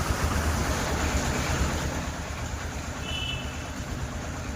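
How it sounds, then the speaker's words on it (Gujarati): Heavy monsoon rain pouring over flooded low-lying streets in Vijapur, Mehsana, Gujarat, a dense continuous wash of rushing water and rainfall with a low rumble, steady throughout and with nobody speaking. "નીચાણવાળા વિસ્તારોમાં વરસાદ પડવાની સાથે પાણી ભરાવાની સમસ્યા યથાવત છે"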